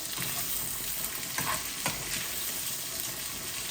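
Dried fish frying in sunflower oil, a steady close sizzle with a few brief stirring scrapes and no voices.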